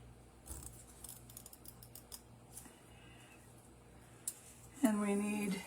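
Scissors snip through a quilt design card, a few faint crisp cuts spread across the quiet stretch before a louder rustle at the end.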